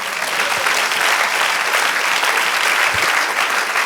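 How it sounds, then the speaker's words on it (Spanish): Church congregation applauding together during a sermon, a dense, sustained burst of clapping that stays loud and even with no voices on top. "Den un aplauso así."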